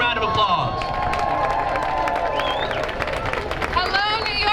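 A crowd at a New York impeachment rally claps and cheers loudly and steadily as a speaker is welcomed to the stage. Whoops and voices rise above a dense wash of clapping.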